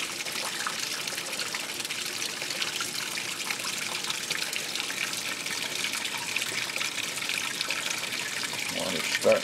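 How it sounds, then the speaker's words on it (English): Water runs steadily into a washing machine tub, a soft continuous trickle and gush with faint background murmur throughout. "Water's starting to come up down the bottom there, slowly."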